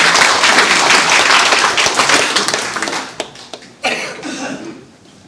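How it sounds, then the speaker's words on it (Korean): An audience at a company's headquarters-relocation ceremony in Korea claps to welcome a National Assembly member to the podium. The applause is loud and dense, then thins into scattered claps and fades out near the end. "대변인 여러분께서는 큰 박수로 의원님을 맞이해주시기"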